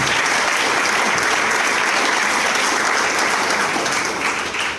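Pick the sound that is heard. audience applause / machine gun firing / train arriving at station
audience applause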